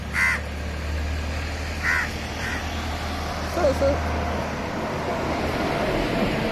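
A pet crow caws in a few short, harsh bursts close by, spaced over several seconds against steady background hum and distant traffic, with people talking faintly around it.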